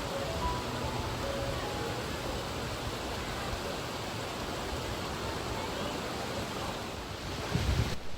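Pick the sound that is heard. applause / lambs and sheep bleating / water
water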